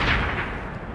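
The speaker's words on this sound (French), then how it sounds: "Napoléon déclenche un violent barrage d'artillerie contre le centre du dispositif anglais" A French artillery barrage at the Battle of Waterloo, a dense rolling roar of cannon fire with a continuous rumbling wash of blasts, loud and sustained throughout.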